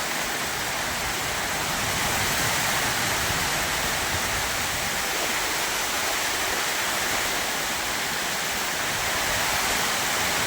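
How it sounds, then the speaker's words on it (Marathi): Heavy autumn rain pours down in a dense, unbroken roar, loud and close, holding steady with no pauses for the whole stretch, with thunder rumbling. "भयान पाऊस चालू भयान"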